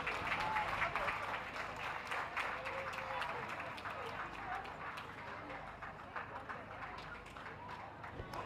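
Audience applause at a championship dog show ring, a continuous spread of clapping that is loud at first and then eases off, with some voices underneath.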